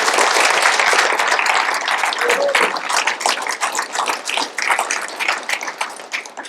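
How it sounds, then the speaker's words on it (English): An audience claps and applauds after a musical and historical presentation, a dense burst of clapping that starts full and thins into scattered claps, loud and close with no talk over it. "Une petite main d'applaudissement pour nos amis."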